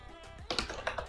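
Quick burst of typing on a computer keyboard during a coding session: a short run of light, close clicks and key taps, heard alone without any talking.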